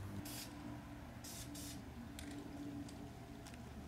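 Several short hissing bursts from a spray paint can painting wheels, a couple close together then quicker fainter puffs, over a quiet background hum.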